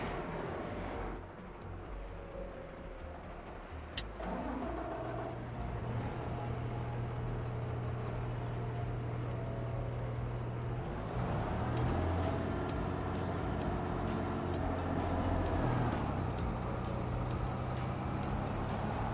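A quad track tractor in Farming Simulator 25 rumbles with a steady low engine drone that swells and holds as it drives, with a few clanks partway through.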